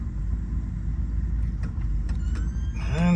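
A 1958 Buick Special's engine idles with a steady low rumble close by, and light squeaks and clicks rise near the end.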